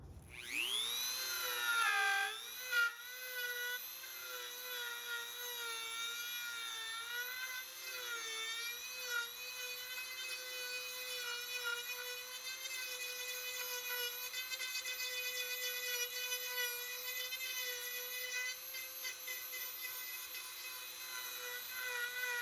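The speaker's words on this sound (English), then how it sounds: "now we'll switch to the cone-shaped bit on the Dremel" A Dremel rotary tool carving wood for an owl sculpture spins up to a high, steady whine and holds it with slight pitch wobbles as it bites, close and continuous, with no talking.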